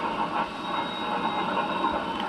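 A train rolling over 3 Mile Creek, heard from inside the locomotive cab as a steady, loud rumble and rattle with faint rhythmic clatter throughout.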